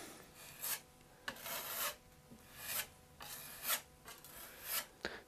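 Wood filler is pressed and spread into a furniture repair with a putty knife, a series of quiet rasping scrapes in a steady back-and-forth rhythm, close up and alone without speech.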